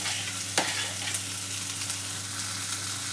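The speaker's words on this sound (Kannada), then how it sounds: "ಈಗ ನಾವು ಬೇಯಿಸಿದ್ದೀವಲ್ಲ ಆ ಹುಳ್ಳಿಕಾಯಿ ಹಾಕ್ಕೊಳ್ಳೋಣ" Boiled hyacinth beans added to a hot pan with green chilli paste and stirred, a soft steady sizzle with one clatter of spoon or lid early on.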